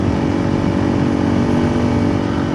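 A Honda CRF300L Rally motorcycle on Tusk Waypoint tires rides twisty roads, its engine holding a steady, loud drone close by, blended with wind and road rumble.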